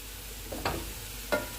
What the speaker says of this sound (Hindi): और इसे 1 मिनट तक फ्राई करेंगे।